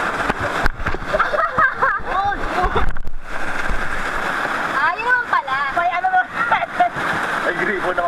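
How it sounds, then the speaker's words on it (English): River water splashes and churns at a small waterfall during a rafting trip. The rushing spray runs throughout while several people talk and call out over it. "Nasa waterfalls po kami."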